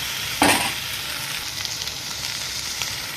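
Sliced okra fries in a pan without salt, opening with a sharp hissing burst as it is stirred, then settling into a steady, close sizzle with no talking.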